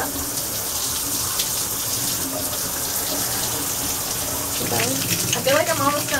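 Water from a home shower runs in a steady, close hiss, with a child's brief high-pitched voice rising above it near the end.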